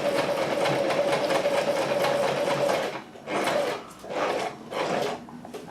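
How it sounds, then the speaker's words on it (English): A sewing machine runs a zigzag stitch to hold lace in place, whirring steadily for about three seconds, then running in three shorter bursts with brief pauses between them. "I'm doing a zigzag stitch so that it'll hold the lace"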